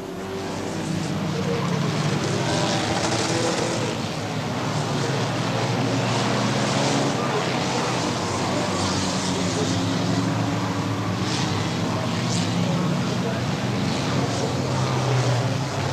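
Banger racing cars at Brafield stadium in the 1980s roar together as one loud, steady wall of engine noise, with no break or pause through the whole stretch.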